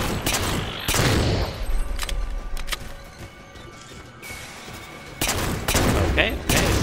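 Pistol and weapon fire in Halo 4 gameplay, with bursts of sharp shots in clusters near the start and again toward the end, loud and close, separated by a quieter stretch of game noise.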